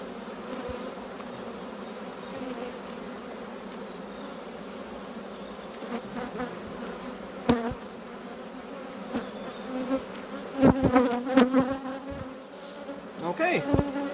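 Honeybees humming around an open hive during an inspection, a steady low drone with individual bees buzzing close past now and then, plus a few light knocks and handling noises, no speech.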